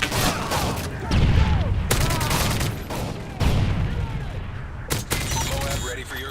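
ACR assault rifle fire in Call of Duty: Modern Warfare 3, loud rapid bursts with sharp cracks and booming low end, broken by brief pauses as the shooting starts and stops.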